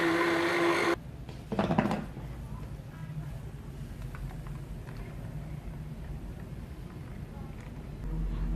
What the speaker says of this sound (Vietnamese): phần bã mình lại cho vào trong máy xay sinh tố và tiếp tục xay nhé